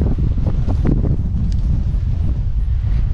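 Strong wind buffets the microphone on Chatham Island, a loud, continuous roar with gusty low rumble and no speech.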